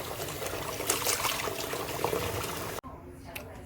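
Raw beef being washed with water and lime juice in a home kitchen: close trickling and sloshing water for a few seconds, ending abruptly into quiet.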